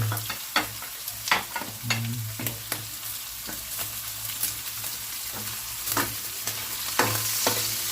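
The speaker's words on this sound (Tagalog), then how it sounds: "ilalagay na natin ang ating gulay" Jackfruit and vegetables tossed into frying pork, with repeated scraping and clanking stirs in a hot pan over a continuous close sizzle and a low steady hum.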